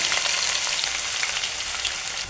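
Sliced onions fry loudly in a pan with curry leaves, a dense, continuous close sizzle with no pauses.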